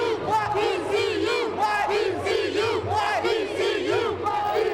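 Crowd at a live outdoor news scene chanting in a repeated rhythmic cadence, many voices rising and falling together in unison with some cheering, loud and continuous.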